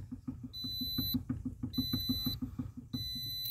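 Key-in-ignition warning chime in a 2009 Pontiac Vibe AWD 2.4, a bright electronic tone repeating in steady pulses, close and fairly loud over a rhythmic low ticking.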